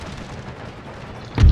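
A brigade volley of musket fire in Empire Total War bursts out as a single loud, deep boom near the end, after a stretch of low rumbling battle ambience.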